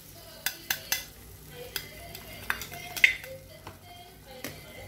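A spoon stirs chilli, coriander, cumin, turmeric, pepper and fennel powders into prawn gravy frying in a pan, with sharp scraping strokes at irregular intervals over a soft, steady sizzle, close up.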